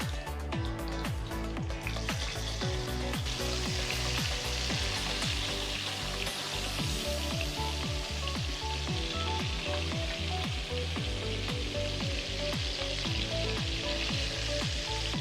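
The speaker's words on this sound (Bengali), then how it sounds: "তেল গরম হয়ে গেছে, এখন চিংড়ি মাছগুলো আমি ভেজে নেব।" Shrimp fry in hot oil in a wok with a dense, steady crackling sizzle that runs close and unbroken for the whole stretch, with no voices.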